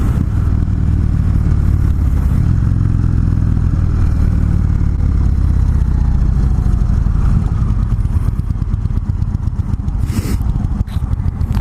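An Indian Chief Classic motorcycle engine idles steadily after ignition, a loud, continuous low rumble close by with no talking over it.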